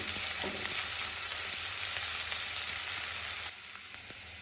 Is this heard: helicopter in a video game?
no